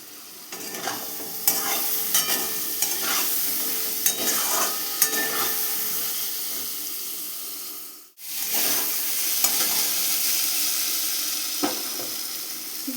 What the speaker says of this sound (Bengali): এবার গ্যাসের ফ্লেম হাই করেই বেগুনগুলোকে উল্টে পাল্টে একটু লাল করে ভেজে নেব।